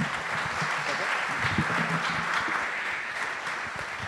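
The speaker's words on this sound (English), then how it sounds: "So everybody give a big round of applause to Kolton" Conference audience applauding an opening keynote speaker at a DevOps event, steady moderate clapping from a crowd in a hall, somewhat distant and continuous throughout.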